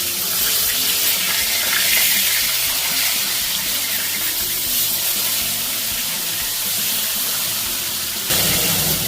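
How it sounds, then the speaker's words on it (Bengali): Pieces of katla fish frying in hot oil, producing a loud, dense, continuous hiss and sizzle close by that runs unbroken for several seconds, with no talking. "এই একইভাবে আমি আরো বাদবাকি মাছগুলো ভেজে নিচ্ছি।"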